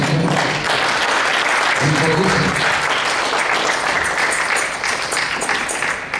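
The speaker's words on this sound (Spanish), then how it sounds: "Un aplauso, un aplauso," Loud applause from a crowd, dense clapping that carries on steadily throughout with voices mixed in.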